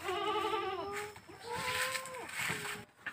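Goats bleat at a market selling sacrificial goats, several wavering cries one after another, close and fairly clear against faint background noise.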